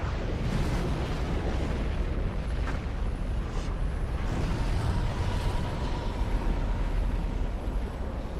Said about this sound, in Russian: Аннигиляторная пушка.